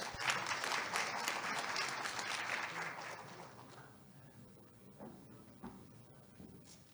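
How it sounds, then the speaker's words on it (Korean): An audience at the opening ceremony of the 2020 Korea IT Service Society fall academic conference applauds to welcome a keynote speaker. The clapping is dense and loud at first, then thins and fades to scattered claps. "뜨거운 환영의 박수 부탁드리겠습니다"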